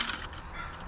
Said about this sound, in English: being serenaded by some crows